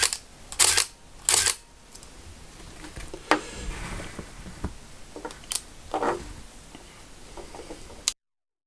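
A Contax RTS film camera shutter fires a bracketed sequence of frames, sharp mechanical clicks and clacks in close succession, heard alone and close-up.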